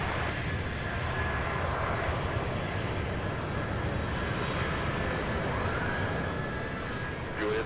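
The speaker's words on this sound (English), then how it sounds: "here's UPS 2327 coming in from Orlando, Florida. A300." A UPS Airbus A300 cargo plane on approach to runway 35 left at Louisville produces a steady, loud engine roar with broadband rumble that holds throughout, and faint radio chatter sits in the background.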